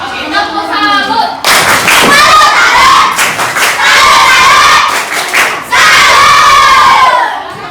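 A classroom group in Indonesia claps a rhythmic salute after a presentation, loud and close, with many hands beating in bursts alongside children's shouts and cheering voices.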